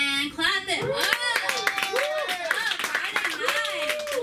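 Clapping from a small comedy open mic crowd in Los Angeles, steady close hand claps continuing under loud overlapping voices and cheers.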